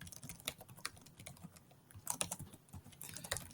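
Rapid typing of JavaScript code on a computer keyboard, with quick irregular key clicks in bursts, close and fairly quiet, with no voices.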